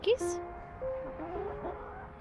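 Backyard chickens cluck and murmur close by with a rooster among them, short rising calls and soft chatter over a couple of seconds, with a person greeting them in between.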